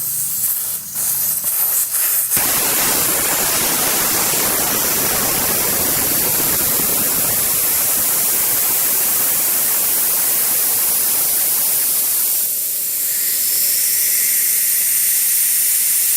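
Loud, steady rush of air escaping from a Yamaha V-Star 650 motorcycle's front tire valve stem hisses continuously for a long stretch, harsh and close, with a brief clatter at the start.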